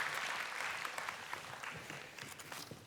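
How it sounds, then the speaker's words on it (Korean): Applause fills a church service, a congregation clapping steadily in a sustained, even patter that slowly fades, with no voices over it. "크게 한번 격려의 박수 보내주십시오"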